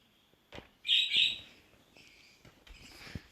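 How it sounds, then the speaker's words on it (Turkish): A couple of bright, high bird chirps close by, followed by fainter tweets and scattered clicks in a quiet room. "kuş sesi geliyorsa kusura bakmayın."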